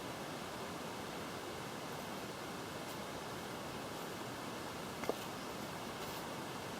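A creek runs beside a bush walking track near Wentworth Falls, a steady broadband rushing of water with no pauses, with one faint click partway through.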